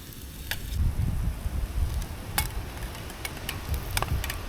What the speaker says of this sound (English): That's going to go in the pan with a bit of oil. Just fry them off.